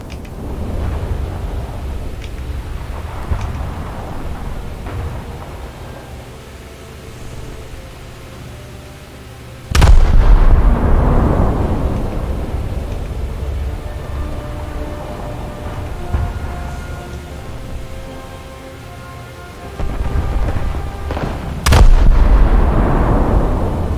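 Naval guns of the Japanese light cruiser Suzuya fire in War Thunder, two heavy booming salvos about twelve seconds apart, each rolling off into a long rumble over steady engine and sea noise.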